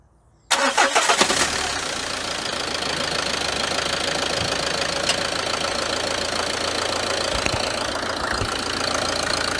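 A Peugeot 307 engine cranks and fires after a moment of quiet, catching immediately and settling into a steady, loud, close idle with a faint knocking rattle that continues throughout.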